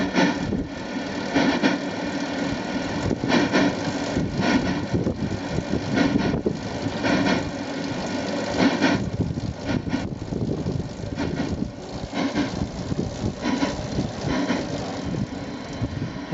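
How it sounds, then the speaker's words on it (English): A Prince 10.25-inch miniature locomotive runs with its chuff sound switched on, a fairly loud steady mechanical rumble with faint regular pulsing as it moves off, heard alone without talk. "It'll start chuffing as the loco goes."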